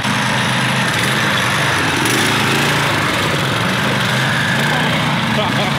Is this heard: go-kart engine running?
yes